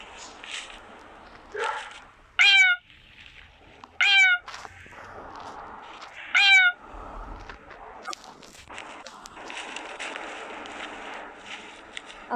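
A cat in a video game gives three loud, sharp meows spaced a couple of seconds apart, with soft footstep-like rustles and quiet background sounds between them.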